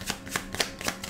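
Tarot cards are shuffled in a quick riffle, a brief run of soft papery flutters and taps, close and fairly quiet.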